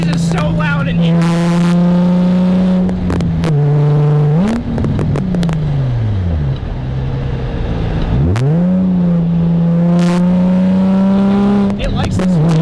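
A Nissan 350Z drift car's engine drones loudly from inside the cabin, rising and falling through revs and gear changes with sharp shift pops, while people talk over it.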